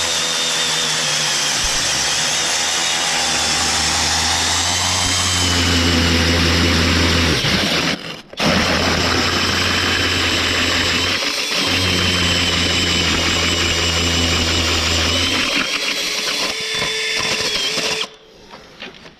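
A loud rotary hammer drills into a wall, grinding steadily and continuously for most of the clip, pausing briefly once, then cuts off near the end.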